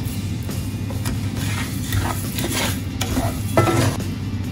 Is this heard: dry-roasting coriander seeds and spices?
yes